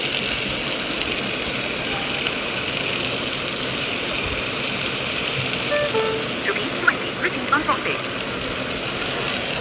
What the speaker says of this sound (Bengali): দিয়ে এবার ভালো করে ভাজা ভাজা করে নিচ্ছি।